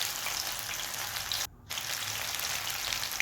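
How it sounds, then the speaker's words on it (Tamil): Baby corn fritters sizzle and crackle steadily in hot, high-temperature oil, a dense continuous frying hiss broken by one brief pause, with no talking. "எண்ணெய் நல்லா ஹை டெம்பரேச்சரில் இருக்கும்போது இதை ஒன்றா சேர்த்து பொரித்து எடுத்துக்கலாம்."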